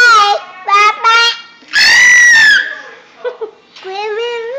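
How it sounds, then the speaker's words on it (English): A toddler of about two and a half lets out a loud, sustained high-pitched scream, close up, between bursts of a child's squealy babbling vocalizations. "Don't scream in the mirror."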